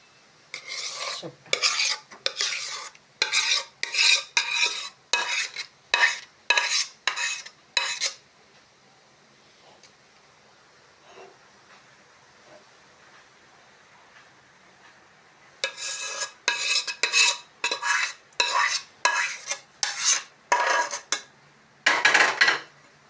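Mango pulp for aamsatta gets stirred in a metal pot, quick rhythmic scraping strokes in two bursts separated by a quiet pause, close and fairly loud, without speech.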